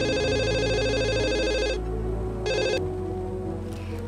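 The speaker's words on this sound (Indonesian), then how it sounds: "Bentar ya, saya telepon ruangannya Pak Reno dulu." An office telephone rings loudly in a steady, repeating electronic ring pattern, with a short break before the final ring, and no voices over it.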